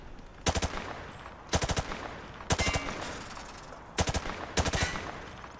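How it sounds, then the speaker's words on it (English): Bursts of automatic weapon fire at targets on a training range in Call of Duty: Modern Warfare 2, five short, loud rapid-fire volleys spaced about a second apart with no talking. "He sprayed bullets all over the damn place."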